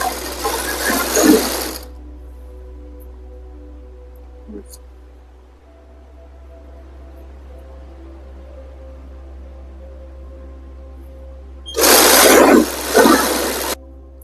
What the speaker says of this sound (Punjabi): ਹੁਣ ਆਪਣੀ ਸਿਉਣ ਲੱਗ ਗਈ ਦੋਨੇ ਸਾਈਡਾਂ